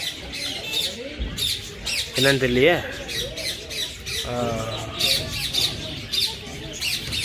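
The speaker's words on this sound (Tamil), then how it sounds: "இதெல்லாம் தான் நம்ம ஊர் கிளின்னு நினைக்கிறேன்." Parrots at a park squawk repeatedly and loudly, with harsh rising calls spread throughout. A person speaks over and between the calls.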